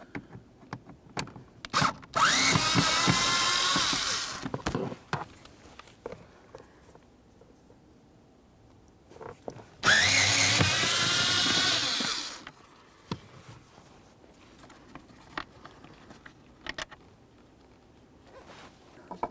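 Phillips head screws being backed out with a power driver from the blower motor of a 2010-2013 Ford Transit Connect, two loud sustained whirring bursts of a few seconds each, separated by quieter clicks and handling noises.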